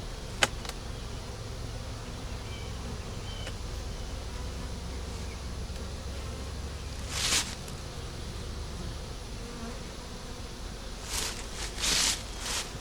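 Honeybees hum around an open three-deep eight-frame hive, a constant low buzz with a few louder close passes of individual bees zipping by the microphone.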